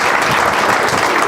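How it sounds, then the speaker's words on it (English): An audience at an academic conference breaks into loud, dense applause, many hands clapping together in a steady close burst with no talking over it. "give the another 3 claps to the great world and gold university"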